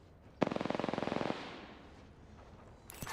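Rapid automatic gunfire from a weapon in the battle royale video game Apex Legends: a close, loud burst of evenly spaced shots lasting about a second, followed by quieter game ambience and a brief sharp sound at the end.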